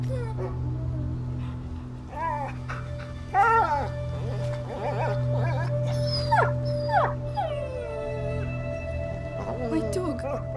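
A dog whimpers and howls in A Plague Tale: Innocence, its rising whines repeating over a steady low hum, with voices speaking around it.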